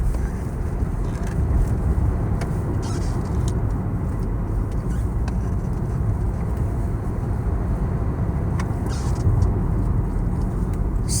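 BMW 525 with a 2.0 diesel engine, 160 kW, accelerates on a test drive, giving a steady low engine drone and road rumble heard from inside the cabin, continuous and fairly loud with no talk.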